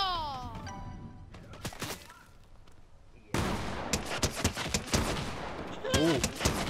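Rapid automatic turret gunfire in a chaotic multiplayer video game, loud bursts of cracking shots rattling close, with birdlike chirps and other game effects mixed in around them.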